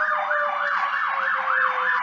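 An ambulance siren passing by outside, a wailing tone rising and falling in a steady rapid cycle, clear and continuous at moderate loudness.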